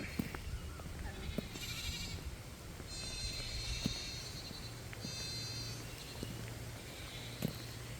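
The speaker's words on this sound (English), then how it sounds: "Goats are over there hollering because now they've seen me." Goats bleat and holler repeatedly at some distance, several drawn-out calls rising over a steady outdoor background hiss.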